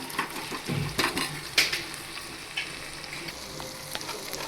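Drumstick leaves with tomatoes sizzle in a pan on low heat, a steady soft fry punctuated by stirring scrapes and clinks of a spoon against the pot, no talking.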